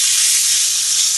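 Thick bone-in beef cote du boeuf sears in a hot pan, a close, loud, even sizzle of hissing fat that holds steady with no talking over it.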